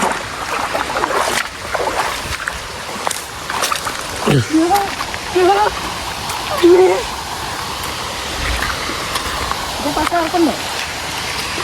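A rising stream rushes near a waterfall, a steady broadband roar of water that runs throughout, with voices talking over it now and then.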